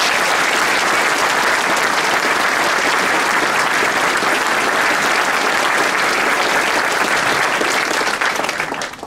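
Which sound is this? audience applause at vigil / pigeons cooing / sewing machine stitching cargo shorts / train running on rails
audience applause at vigil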